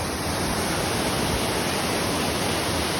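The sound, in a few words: Kaigal waterfall, water falling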